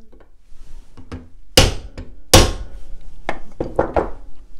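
A small hammer tapping a bicycle pedal's dust cap through a piece of wood: several close, solid knocks of varying strength, two especially loud blows, in a quiet room.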